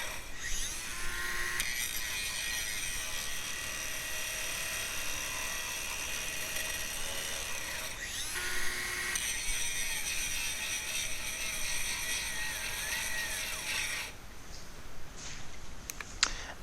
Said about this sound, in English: Now I'm going to do some heavy grinding. I'm really digging it into the metal, so that I can hear the grinder slowing down